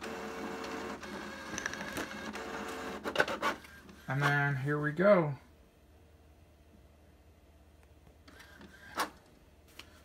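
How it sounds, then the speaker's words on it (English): An Epson XP-8500 photo printer runs a print job: a loud, stepped burst of whirring and clicking feed mechanics lasting about a second, following a stretch of someone talking close by, then near silence with one brief later click. "So what I did here is I'm telling it to print, and as you see, the tray comes out when you say print"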